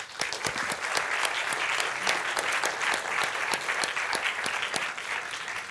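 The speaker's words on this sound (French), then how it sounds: "On les applaudit bien fort déjà." Conference audience applauding a round-table panel on low-carbon construction and repair, a steady crowd clapping with distinct sharp individual claps standing out near the front throughout.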